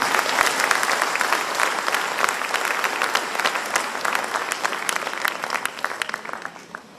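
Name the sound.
audience applause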